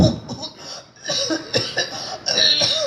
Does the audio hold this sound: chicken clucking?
no